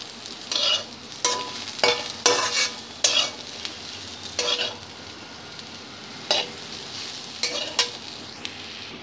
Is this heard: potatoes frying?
yes